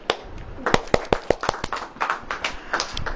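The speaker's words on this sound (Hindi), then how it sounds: "ताली बजाओ" A church congregation clapping hands together during a Hindi-language sermon, sharp sharp irregular claps in a loose rhythmic pattern, close and fairly loud, with no voices over them.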